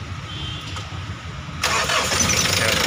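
After a fuel filter change, a stalled Mitsubishi L300 FB-type van cranks and fires up partway through, its engine catching and settling into a loud, steady idle close by.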